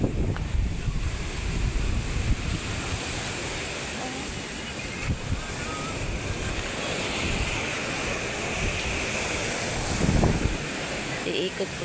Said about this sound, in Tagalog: Ang lalaki po ng alon ngayon bago may tawag pa pong bagyo ngayon